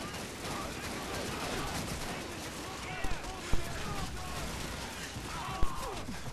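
Machine gun fire crackles through a busy World War II battle in Call of Duty 2, with a steady din of shots and a few sharper close reports rising above the noise, and voices mixed in.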